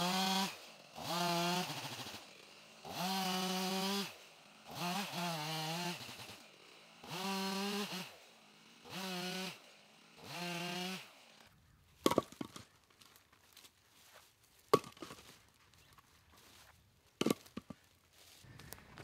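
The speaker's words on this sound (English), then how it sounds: "So I'll have to just go ahead, switch back to the big saw, and we'll get this finished up with the steel." A chainsaw cuts a hickory limb into firewood, revving in about seven sustained buzzing bursts. Sharp cracks, knocks and scattered clatter of wood follow, with no talk.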